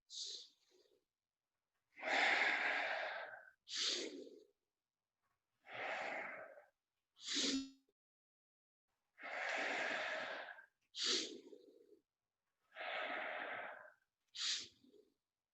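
Rapid, deep, forceful breaths in a guided breathing exercise, each inhale opening the chest, loud and close with alternating long and short breaths separated by brief pauses.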